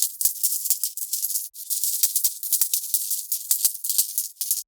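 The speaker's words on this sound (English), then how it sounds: "it's just a library sample of a welding torch with some filter modulation" A library sample of a welding torch, filtered and modulated: a dense, hissing crackle of high-pitched sputtering bursts with sharp pops scattered throughout, steady for several seconds, then cutting off abruptly.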